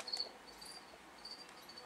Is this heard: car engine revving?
no